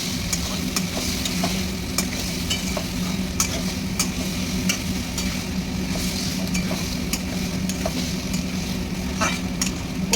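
Slit green chillies sizzling and frying in a pan for a Bengali fish dish, a steady crackle with occasional ticking stirs close up, and no talking.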